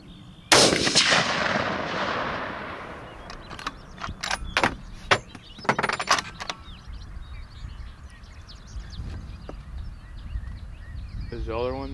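A single sharp, loud crack of a .300 Win Mag rifle fired at a groundhog in an open field, followed by fading echo, a few mechanical clicks and quiet murmuring voices.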